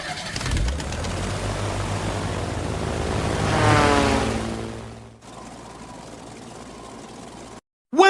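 A cartoon propeller plane engine from Peppa Pig drones steadily, swelling to a peak then dipping, with a soft cooing tone mixed in; a sudden cut near the end.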